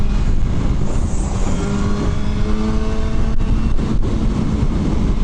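A BMW S1000R motorcycle engine roars loud and close, holding a steady high-revving drone throughout with slight pitch shifts and wind noise.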